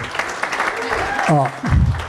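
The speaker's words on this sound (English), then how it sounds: "let's give her a big round of applause" Applause at a wedding fills the background while people talk over it at close range, the clapping staying fairly steady under the voices.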